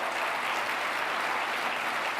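A large audience at a Phoenix State of the City address claps for the city manager, a dense, even wash of applause that stays loud and continuous from start to finish.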